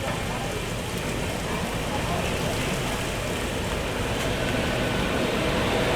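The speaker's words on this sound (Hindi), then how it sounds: "बारिश हो रही है" Rain falls steadily outside a moving express train near a station platform, a continuous broadband hiss of drops that stays even and fairly loud throughout.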